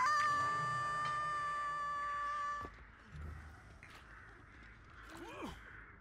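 A crow caws in the video game Dead by Daylight: one short, curling call near the end, heard faintly after a sustained tonal drone cuts off, over quiet game ambience.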